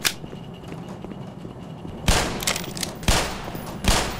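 Three loud gunshots ring out in the Black Mesa video game, each a sharp close crack with a short decaying tail, spaced about a second apart after a quiet stretch.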